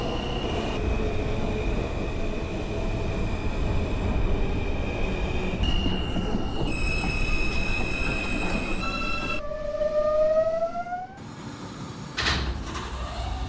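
An R160 subway train on the M line, simulated in the OpenBVE game, rumbles along with steady motor whine and rising electric tones, then squealing wheels and a door-chime sequence near the end, with no talk.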